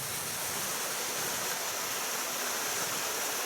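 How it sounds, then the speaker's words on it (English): A small waterfall cascading down a hillside near Haweswater in the Lake District gives a steady, soft broadband rush of falling water, even and unbroken, heard at moderate distance with no voices. "Another little cascade"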